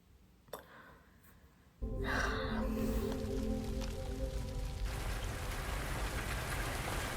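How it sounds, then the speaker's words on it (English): Steady, dense rain swells in abruptly after a brief quiet moment, filling the mix with a broad hiss that holds strong for several seconds as part of a music video's sound design. "The sound editing is so good on this. It's the rain."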